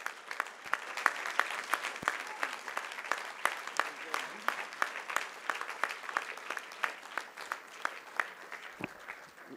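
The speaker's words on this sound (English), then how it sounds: "Please put your hands together to applaud Dr. Samath Gowda." A graduation ceremony audience at a medical college applauds steadily, the sustained clapping heard from a moderate distance with a public-address voice faintly underneath.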